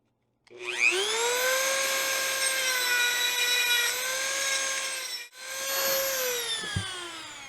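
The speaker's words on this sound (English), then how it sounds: "I'll take my Dremel tool and a sanding wheel and enlarge this hole" A high-pitched Dremel rotary tool with a sanding wheel whines loudly after spinning up, dipping briefly as it bogs down, then revving again while grinding to enlarge a hole in a latch part.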